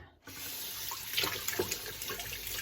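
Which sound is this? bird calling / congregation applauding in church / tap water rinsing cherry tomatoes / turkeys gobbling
tap water rinsing cherry tomatoes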